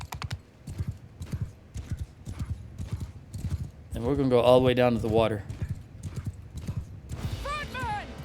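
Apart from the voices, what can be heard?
horses in the video game Mount & Blade II Bannerlord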